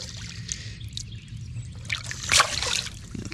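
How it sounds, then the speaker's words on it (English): Water scooped by hand and splashed onto a face while out fishing, with soft trickles and dribbles building to a brief close splash, then water dripping and running off. "Throw some water in my face"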